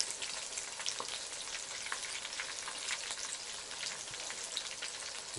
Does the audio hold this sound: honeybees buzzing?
no